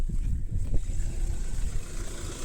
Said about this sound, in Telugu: ఇప్పుడు ఫస్ట్ అయితే మీకు ఇంజన్ సౌండ్ ఎట్లా ఉంది అది చూపిస్తాను నేను